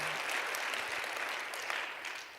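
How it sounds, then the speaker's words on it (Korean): Applause from a church audience, steady and fairly faint, a dense wash of clapping that holds for a couple of seconds. "박수 치려면 좀 화끈하게 좀 치시고"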